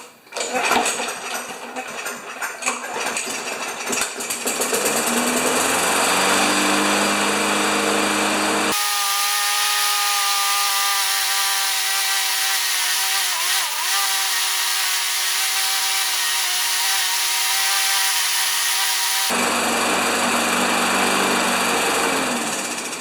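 A Briggs & Stratton engine on an MTD lawn mower runs with a misfire. It drones loud and steady for most of the stretch, its note shifting partway through, with no talking.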